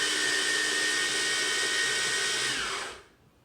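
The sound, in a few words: grinding whole almonds into almond flour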